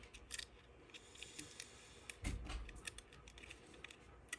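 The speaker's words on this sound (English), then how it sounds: "take some scissors, trusty scissors here, and we're just going to trim on the lower side of our dots" Scissors trimming material for a slot car layout waterfall, faint close snipping clicks in an irregular series with one slightly louder crunchy cut near the middle, no voices.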